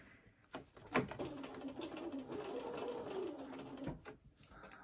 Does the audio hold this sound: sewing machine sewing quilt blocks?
yes